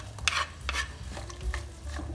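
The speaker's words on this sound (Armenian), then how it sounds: "սոխը պետք է տապակենք մինչև փափկելը" Onion frying in oil gives a soft, faint sizzle under repeated spoon stirring and scraping in the pan, with a few sharper clinks.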